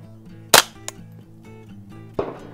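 Two sharp, loud rifle shots from a Tactical Solutions survival rifle fired at targets, spaced well apart, each a crisp crack with a short tail, over a faint steady tonal hum.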